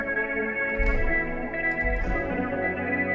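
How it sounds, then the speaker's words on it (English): Autumn Haze, a stock synth instrument, plays a soft sustained pad-like tone with gentle swells and faint echoing accents, held quietly and alone for a few seconds. "I'm gonna be using this instrument called Autumn Haze."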